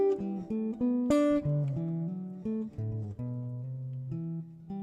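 Plucked notes on a vintage 1966 Epiphone Howard Roberts guitar step downward in a repeating sequence, moderately paced and clear, with no talking.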